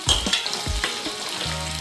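Sliced onions hit hot oil where garlic has been browning, giving a close, bright sizzle with a few thuds and stirring scrapes in a home kitchen pan, no voices.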